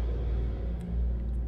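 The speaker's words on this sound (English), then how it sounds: "there was a huge truck" A huge truck rumbles past outdoors, a steady heavy low-frequency drone with a slight swell midway, continuous and fairly close, with no talking.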